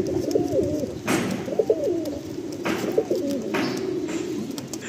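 Pigeons in a loft of Madrasi and Andhra breeds coo in repeated, rhythmic bursts of low throaty calls, close and clear over a steady background hum, with no talk.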